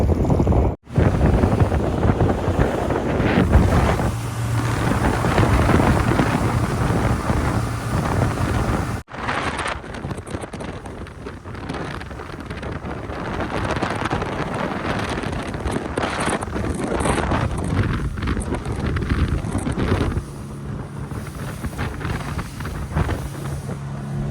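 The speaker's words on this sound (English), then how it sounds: "It's very windy out here, guys" Wind buffets the microphone in a constant roar over a running boat engine offshore near Sydney, with a sharp cut partway through, no talking.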